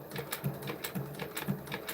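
An industrial zigzag sewing machine stitches quilting through vehicle seat layers with 1/4 to 1/2 inch foam between them, giving a rhythmic run of close clacking needle strokes about twice a second, with no voices.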